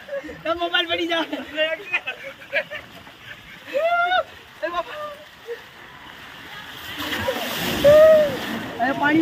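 Water splashes at a water slide in bursts under excited talk and shouting. A louder rush of spray rises toward the end.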